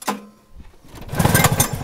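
A late-1970s Suzuki XR400 points engine with dual carbs cranks over for a mag-side compression test, giving a loud, close, rapid chugging burst after a brief opening thump.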